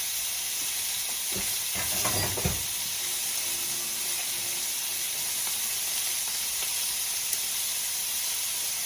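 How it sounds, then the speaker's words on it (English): Meat pieces sear in olive oil in a pan for chili verde, giving a steady, close hiss and sizzle throughout, with a short burst of clatter and spatter early on. "After this is done searing on each side, we're going to move these pieces into this bowl"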